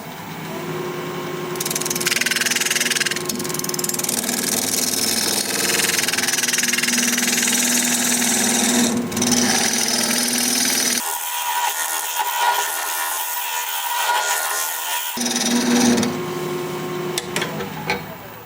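A wood lathe spins a hollow form at 1200 RPM, giving a loud, continuous motor hum with rough scraping from the cutting tool. The low drone drops out briefly partway through and then resumes. No one speaks.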